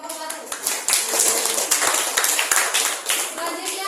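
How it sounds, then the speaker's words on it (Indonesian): Students in a classroom applaud a presenting group, dense, lively hand clapping that stays steady for several seconds, with children's voices mixed in underneath. "kasih tepuk tangan di kelompok 1"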